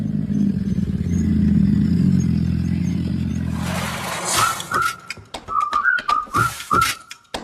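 A 1000cc four-cylinder sports bike arriving, first a steady low engine drone, then sharp repeated whistle-like bursts and revving blips with gaps between them, loud and near, no speech.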